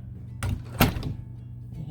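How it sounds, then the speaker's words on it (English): A house door swings shut with a single dull thud, close and brief, amid quiet room sound. "And then you close the door"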